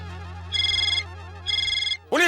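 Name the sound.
mobile phone ringing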